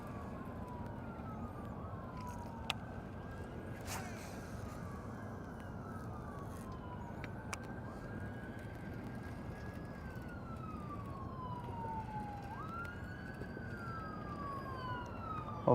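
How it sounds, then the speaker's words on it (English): Several emergency vehicle sirens wail and sweep up and down continuously at a moderate distance, overlapping one another with a steady background rumble. "Hopefully, wherever all these sirens are headed"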